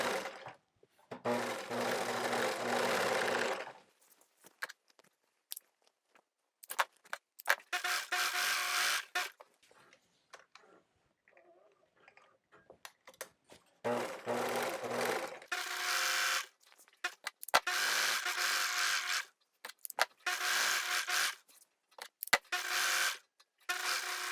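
A sewing machine zigzag stitches a wrap skirt in several bursts, each a close, rapid mechanical whirring run lasting a few seconds, separated by quiet pauses with small clicks and handling noises.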